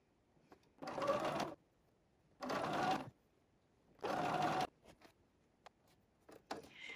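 Bursts of sewing machine stitching as quilt squares are sewn along an angle, three distinct runs of steady whirring separated by pauses, with light handling noises near the end.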